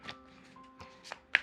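Soft, quick overhand shuffling of a light-stock Lord of the Rings tarot deck, a few faint card slaps and riffling taps close by in a quiet room.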